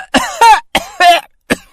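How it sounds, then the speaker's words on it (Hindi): A man coughs hard in a sharp, close series of about five harsh bursts with brief gaps, loud and rough like something stuck in his throat, with no other sound around. "जोर जोर से खांसने लगा।"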